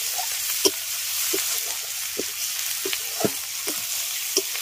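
Onion and spice paste with red chilli paste and a medium tomato sizzles in a pan for ghugni, a steady close frying hiss broken by several sharp stirring scrapes.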